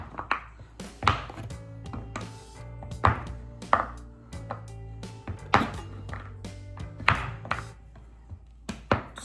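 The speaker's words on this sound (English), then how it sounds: "Just gonna cube it up so it'll go a little bit faster." A knife cubes a block of soap base on a hard surface with repeated crisp, close knocks and taps in an irregular rhythm, under a faint humming background tone.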